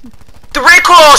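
Rapid automatic gunfire bursts out in the video game Black Ops 4, a dense rattling volley that takes over after a faint run of quick low pulses, while a player talks over it.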